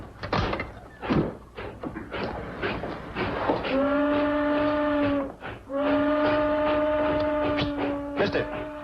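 A 1940s passenger train pulls out of a station, with clattering, knocking carriage noise and then two long, loud steam-whistle blasts close by.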